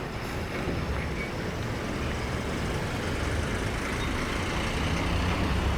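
The Naik travels bus pulls away from a roadside dhaba with a low, steady diesel engine rumble and road noise, holding a constant moderate level with a faint rise toward the end.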